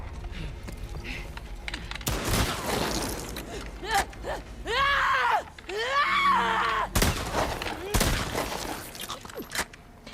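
Gunshots in The Last of Us Part II, with two sharp, loud reports a few seconds apart standing out against game ambience, mechanical clicks and groaning effects, and no speech in between.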